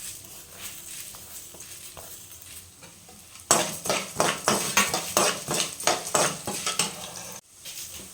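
Coriander seeds frying in a pan for puliyogare gojju, quiet at first, then a spoon scrapes and stirs in steady rhythmic strokes against the metal, close and fairly loud, with a soft sizzle beneath.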